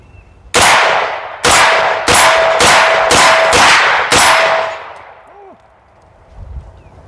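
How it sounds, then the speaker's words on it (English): An MP5 pistol-caliber gun fires seven sharp, loud shots in an uneven string, each crack ringing out briefly before a quiet tail. "We're going to shoot this thing like a pistol since it is a pistol caliber."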